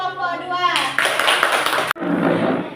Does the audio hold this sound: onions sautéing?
no